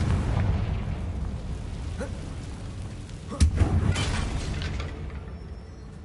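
A Confringo blasting spell explodes in Hogwarts Legacy, a sudden loud boom partway through followed by rumbling debris and crackle over a steady low background rumble.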